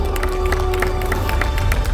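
At the ceremony proclaiming the launch of Gangwon Special Self-Governing Province, a large crowd claps and cheers: a loud, continuous roar with scattered sharp claps over a steady low rumble and a sustained tone.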